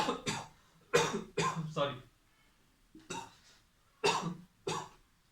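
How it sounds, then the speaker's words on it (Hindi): A person coughs several times in short bursts, with pauses between fits, close and fairly loud. "आज पता नहीं क्या हुआ, खांसी ज्यादा आ रही।"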